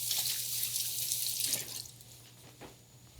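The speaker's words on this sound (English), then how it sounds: "So I'm going to wet my hands." Tap water runs strongly into a sink as hands are wetted while making gluten-free pumpernickel bagels, a loud close rush that thins and drops after about a second and a half, leaving softer splashes and a faint background hum.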